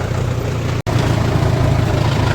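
A tractor fitted with narrowed tyres for passing along field paths keeps its engine running in a steady low rumble, with a brief cut in the sound near the start.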